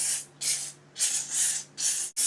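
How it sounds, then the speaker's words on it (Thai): Rexco 70 tool cleaning spray sprayed as foam in five distinct bursts of close, loud hiss separated by short pauses, with a faint steady hum beneath. "เราสามารถฉีดสเปรย์เข้าไปโดยตรงได้เลยนะครับ"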